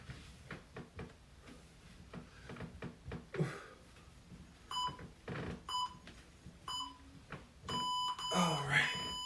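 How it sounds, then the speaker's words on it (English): A workout interval timer buzzer sounds repeated electronic beeps in short bursts during a kick and push fitness class, mixed with an instructor's talk and heavy breathing. "Keep going through the buzzer, through the timer."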